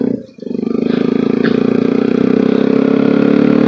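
A Bajaj Pulsar RS200 motorcycle engine idles up close on a road near Dehradun, a loud, steady, rapid thrum that dips briefly at the start before settling into an even pulse.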